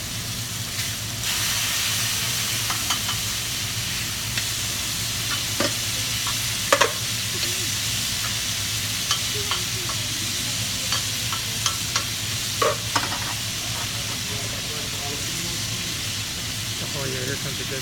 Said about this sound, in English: Got some onions for the nacho, jalapeno peppers, a little bit of oil,